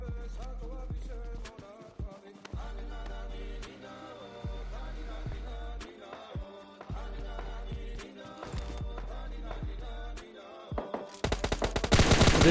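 Gunfire in PUBG Mobile Lite solo play, repeated short bursts of shots at a steady rhythm with pauses between, ending in a louder, dense volley of rapid fire, close and clear.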